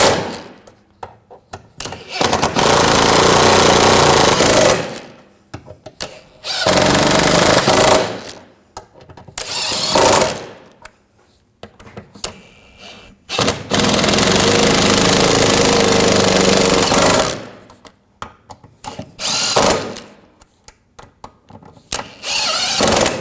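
A power tool runs in loud bursts of several seconds, with short gaps between them, as it tightens the driveshaft coupler plate bolts on a 2007-2013 BMW 328i with the 3.0L straight-six.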